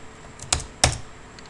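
Two sharp computer keyboard keystrokes, the second a firm enter press, land about a third of a second apart while data is entered into SAP accounting software; close and alone over a quiet background.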